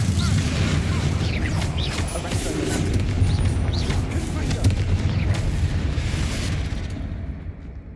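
A Bombarda spell detonates in Hogwarts Legacy, giving a loud, continuous barrage of booming, rumbling blasts with crackling debris that trails off near the end.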